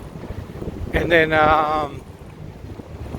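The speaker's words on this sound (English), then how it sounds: "And again, it's windy." Wind gusts through a downtown Chicago street on a warm August day as a steady, low buffeting rumble, while a voice briefly speaks over it partway through.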